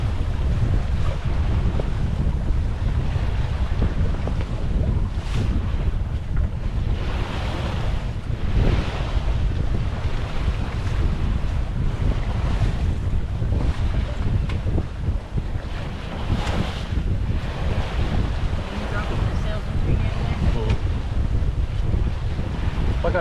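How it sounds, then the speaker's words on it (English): Sea waves of four to five feet and a strong wind surround a sailboat under way. A constant rushing roar of water mixes with gusty wind buffeting, loud and unbroken throughout, with faint voices occasionally underneath. "Looks like we got about 4 or 5 foot seas."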